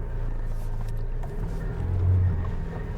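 A McLaren GT sports car idles and creeps at low speed while turning around, a steady low engine rumble swelling briefly near the end, with no talking.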